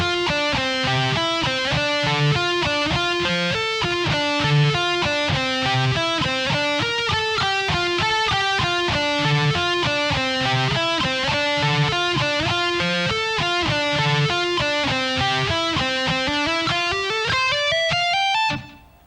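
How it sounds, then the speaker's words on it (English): An electric guitar with distortion plays a lick slowly, a continuous run of clear picked notes at an even pace for about eighteen seconds, ending in a rising slide before cutting off, with no talk. "So that lick slow with all the parts should sound like this."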